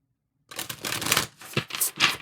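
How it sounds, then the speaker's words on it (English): Tarot cards being shuffled by hand, a steady riffling burst followed by a few quick separate flicks and slaps, close and fairly loud with no talking. "Let me give it one more shuffle just in case."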